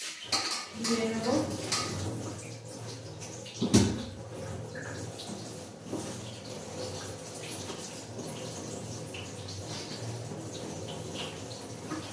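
Chopped spinach is washed in a metal pot under a running tap, with clanks and clatters of the pot at the start and a louder knock partway through, then a steady wash of water.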